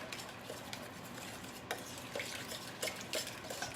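Yogurt, or almond milk standing in for it, being mixed with tandoori chicken spice in a bowl. A steady, close scraping stir with a few sharp clinks of utensil on dish, and no talking.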